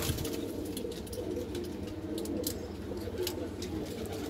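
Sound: pigeons cooing

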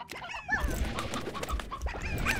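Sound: chickens clucking in the video game Slime Rancher

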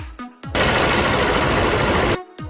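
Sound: car engine running after adding engine protector

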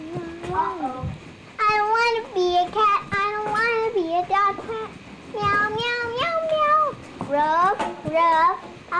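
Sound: child imitating cat meowing

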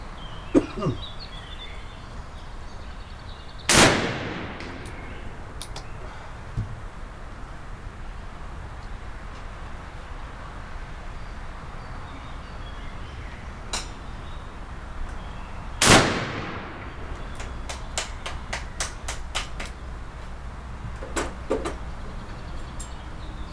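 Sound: black powder revolver gunshots

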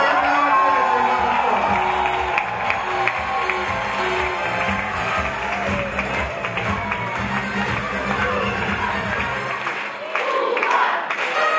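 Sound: audience applause and cheering

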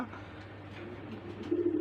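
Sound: tiger grubas pigeons cooing at a pigeon farm

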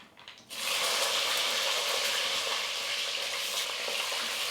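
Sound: eggplant frying in hot oil with mustard seeds

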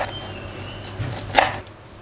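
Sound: dicing bell pepper with a knife

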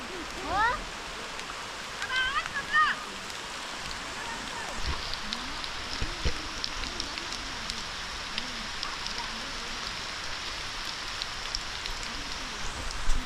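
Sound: rain falling

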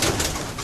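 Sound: pigeon cooing in a loft

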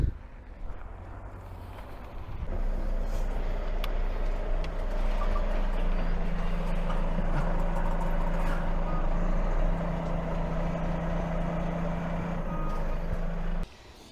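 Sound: truck driving forward onto snow chains

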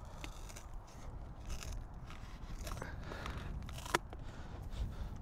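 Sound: cutting off part of a model airplane tail

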